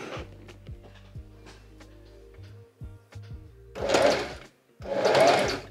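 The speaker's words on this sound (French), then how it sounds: "on va venir se mettre sur un point zigzag comme ça, et on va faire notre petit ourlet" A domestic sewing machine stitches a zigzag hem on a stretchy upcycled tube top, with light mechanical clicks at first, then two loud whirring bursts of stitching, each about a second long, close to the microphone.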